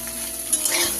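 Soybeans stirred and fried in a pan for a Bengali soybean-poppy seed chutney, a steady close sizzle with faint scraping from stirring, no talk.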